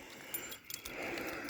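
A bunch of motorbike keys jangles briefly up close, with a few small metallic clinks and rattles over a soft rustle.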